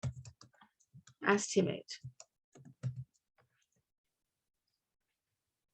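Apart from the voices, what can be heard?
typing on a computer keyboard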